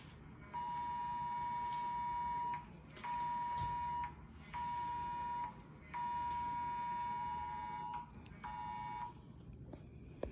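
A harsh, piercing Amber Alert emergency tone repeats in five long bursts with short gaps between them, over faint background noise.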